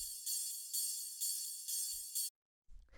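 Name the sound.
ride cymbal sample for techno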